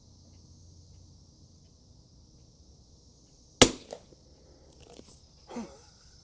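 A single sharp, close rifle shot from a Kimber 82G or Winchester 52D cracks out in an otherwise quiet setting, followed by a couple of faint thuds and a short rustle.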